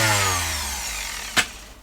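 A DeWalt DW411 sander runs close by with a steady motor whine that gradually winds down, broken by one brief sharp click near the end.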